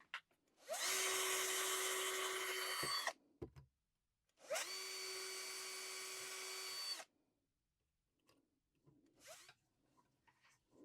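Two sustained bursts of a handheld drill boring into wood on a cigar box stick dulcimer, each lasting a few seconds with a steady whine and rising start, followed by faint handling clicks and brief lighter bursts.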